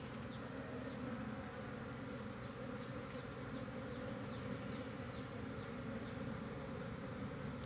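Honey bees hum and buzz in a dense, continuous drone around a hive box, with individual bees passing close by now and then, heard alone and fairly quiet.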